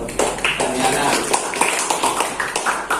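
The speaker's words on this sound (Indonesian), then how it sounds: "Oke, tepuk tangan untuk Daniana." Classroom applause for a student, a burst of scattered hand claps from a group of pupils filling the room at close range, with a voice talking over it.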